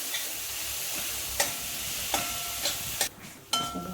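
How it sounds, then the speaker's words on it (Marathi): Beetroot, carrot and tomato sauté in a hot pan with a steady sizzling hiss, broken by several sharp scrapes and clicks of a spatula stirring through them. "आपल्या भाज्या चांगल्या परतल्यात"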